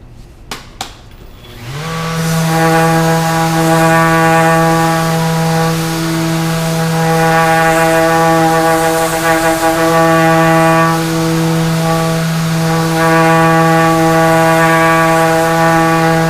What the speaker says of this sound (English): I'm using a random orbital sander.